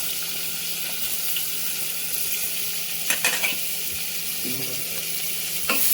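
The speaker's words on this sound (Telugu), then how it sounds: "అండ్ ఇప్పుడు కొంచెం ఆనియన్స్ అనేది యాడ్ చేసుకుంటున్నాను." Onions with cumin frying in melted butter over low heat, a soft continuous sizzle with a few clinks of stirring near the end.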